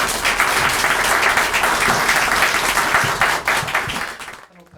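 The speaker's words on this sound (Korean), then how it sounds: "국민의힘 사령탑을 맡은 한동훈 비상대책위원장이 박수를 받으며 연단에 오릅니다." Loud, dense applause greets the People Power Party emergency committee chairman Han Dong-hoon as he steps up to the podium, a steady roar of clapping that fades out abruptly at the end.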